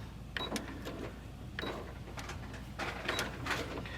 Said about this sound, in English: stitch, pivot, stitch, pivot, pivot. I can even do the one stitch that way.